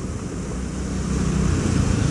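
Vehicle rolling through a waterlogged road after monsoon rain, a dense continuous wash of splashing water and rumble that swells and grows louder over its two seconds, with no voices.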